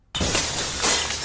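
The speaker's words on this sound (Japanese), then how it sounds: "リビングの窓ガラス、全部割れちゃったよ。" Window glass shatters as a staged sound effect in a drama CD: a sudden, loud crash that fills the clip, followed by a sustained wash of breaking shards and tinkling fragments.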